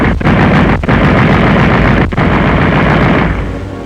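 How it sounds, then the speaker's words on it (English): A World War II-era aircraft machine gun fires in a loud, continuous, distorted roar, with brief gaps between sustained bursts, heard alone with no talk. "The machine gun is the warbird's friend, his weapon both of attack and defense."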